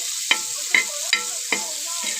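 Sliced onion frying in leftover mackerel fish oil, sizzling steadily with four distinct stirring scrapes at regular intervals, close and clear with no talk.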